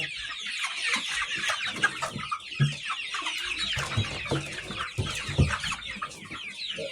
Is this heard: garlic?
no